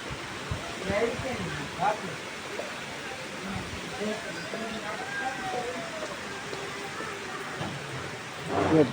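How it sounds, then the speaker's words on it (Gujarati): Rain pattering steadily outdoors with soft rumbling in the background, while people talk intermittently over it. "વરસાદ ચાલુ છે"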